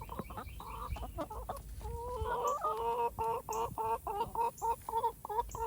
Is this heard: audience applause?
no